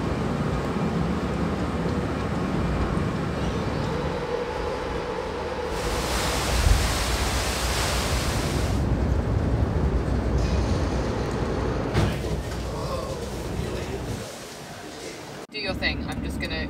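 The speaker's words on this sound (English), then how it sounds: "So today I'm on the ferry across to Arran, the Isle of Arran in Scotland." Onboard a ferry crossing to the Isle of Arran in Scotland: a loud, steady broadband rumble of engines and wind with a stronger rush of water or wind midway, continuous throughout with no clear voices.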